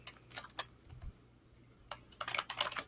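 Keys clicking on a real keyboard plugged into a Chromebook, close by, in two short bursts of rapid typing with a quiet pause between them.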